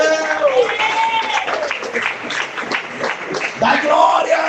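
A church congregation in Samambaia Sul claps in steady applause, mixed with raised voices and shouts that sit prominently over the clapping.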